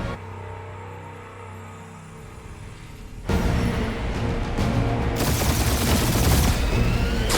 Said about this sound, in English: Keep up the barrage. They will not survive it.